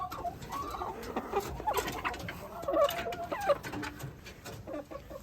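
Chickens clucking and calling inside a coop split into three compartments, where a few irregular bird calls sound at moderate distance over a steady background hum.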